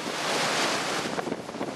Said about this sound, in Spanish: impresionante el agua que sale. La compuerta de Cafiero. Está toda la compuerta abierta